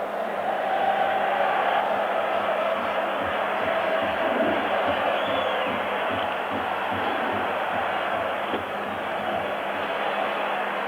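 Italian football crowd at Roma's stadium during a European Cup match against Dundee United, standing and singing en masse, a dense continuous roar of voices filling the whole stretch.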